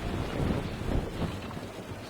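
A sailing ship under full sail in Naval Action moves across the water with a low, rushing wash of wind and sea that rises and falls gently and continuously.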